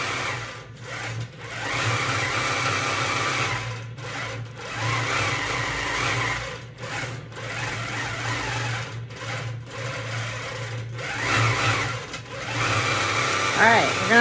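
Long arm quilting machine stitching through a quilt top, a close rapid mechanical whirring hum in bursts with brief pauses between runs, with a voice talking over parts of it.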